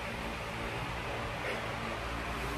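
Steady broadband whooshing of an electric fan blowing close to the microphone, a constant airy rush with a low hum and no talking.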